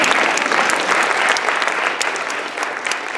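A room of people gives a round of applause during a math session at a school event, loud, dense and steady clapping from many hands that holds at an even level.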